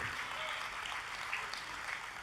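Sustained applause from a church congregation, a dense even wash of many hands clapping, soft and somewhat distant throughout.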